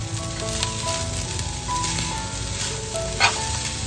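Grated coconut and black jaggery are stirred in ghee in a pan for modak filling, giving a continuous close sizzle with scraping stir sounds and a small clink near the end.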